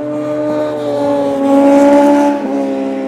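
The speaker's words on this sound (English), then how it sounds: "Look at this guy with a wheelie." A vehicle on University Parkway in Sarasota passes close by while its rider holds a wheelie, its engine tone climbing and swelling loudly to a peak before dropping away as it goes past.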